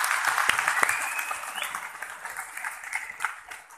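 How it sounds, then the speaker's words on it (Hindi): An audience at a business gathering claps to welcome first-time attendees, a brisk round of applause that gradually thins and fades out. "एक बार तालियां करें नए दोस्तों के लिए"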